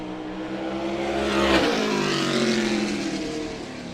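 A SMART Modified Tour race car on a qualifying lap at Caraway Speedway comes off turn four, its engine roaring loud and close as it sweeps past with a rising then falling pitch, no talk over it.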